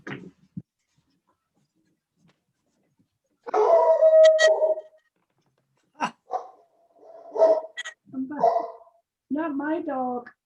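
A dog lets out a drawn-out howl, followed by several short barks and whining yelps, close and fairly loud in an otherwise quiet room.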